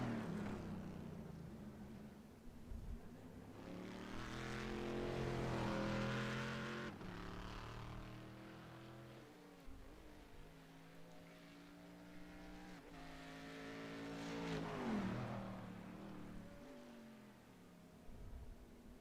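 A Corvette race car lapping the Montreal circuit during qualifying, its engine note rising and falling as it accelerates, shifts and passes twice, loud near the middle and at the end, fading between.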